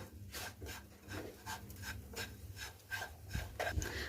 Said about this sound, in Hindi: सारी चीजों को चलाते हुए हम भून लेंगे।